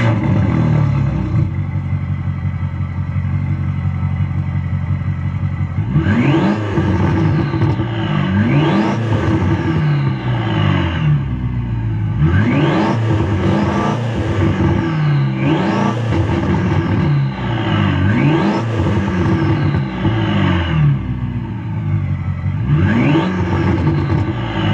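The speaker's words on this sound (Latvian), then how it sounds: "pie reizes uzgāzēšu pāris reizes" A car with an aftermarket exhaust idles with a steady burble, then is revved sharply about half a dozen times, each rise and drop of revs loud and close, with no talking.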